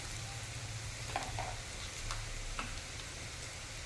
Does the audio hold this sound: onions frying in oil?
yes